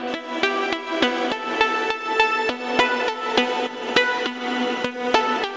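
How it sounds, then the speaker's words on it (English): A synth pluck run through Valhalla Shimmer reverb, playing a steady rhythmic pattern of bright, sharp note attacks with rich shimmering harmonic tails that hang and blend between hits, heard alone and fairly loud. "I just route the audio from the original pluck into this separate track, and I run it through Valhalla Shimmer."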